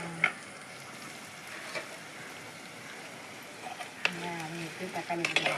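Onion, green chilli and garlic frying together in a pan over a stove, a soft steady sizzle with a few sharp clinks and stirring scrapes, busier near the end.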